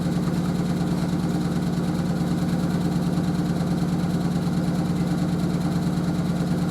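A washer dryer's drum spins at around 500 RPM, making a steady, loud motor hum with an even mechanical drone that holds constant throughout, with no talking.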